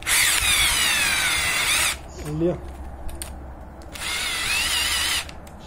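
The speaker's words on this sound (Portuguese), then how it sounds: "Deixa eu apertar mais essa parafusadeira aqui." Cordless screwdriver driving a small hook screw, two loud sustained whirring bursts separated by a pause where a voice briefly speaks nearby.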